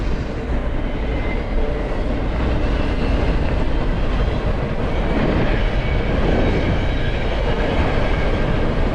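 Freight train with a DPU locomotive passing on the CN Graham Subdivision, a loud, steady rumble of rolling cars with rhythmic clickety-clack of wheels over rail joints, close and continuous throughout with no talk.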